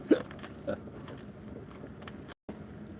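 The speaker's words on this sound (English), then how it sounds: "I got the hiccups too." Hiccups from a person at the water's edge while fishing, two short sharp catches close to the microphone near the start, then a quiet background.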